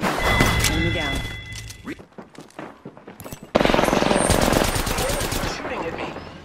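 Video game gunfire crackles in rapid bursts with heavy thunks. A short lull is followed by a dense, loud stretch of sustained automatic fire, and a voice speaks alongside the shooting.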